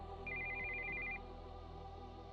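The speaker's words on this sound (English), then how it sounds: "we heard the sound of an incoming call on a cell phone" A cell phone rings with an incoming call: one steady electronic tone lasting about a second, faint and distant over a low background hum.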